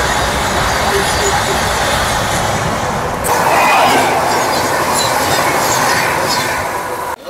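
A passenger express train rolls into Deen Dayal Upadhyaya railway station in the morning, giving a loud, continuous rumble and rattle of carriages close by. The sound shifts midway and stops abruptly at the end.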